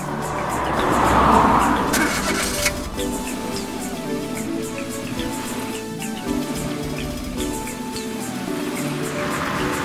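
A cartoon car drives along in a steady, moderately loud engine drone with a swell early on, mixed with light rain-like patter and faint background sounds.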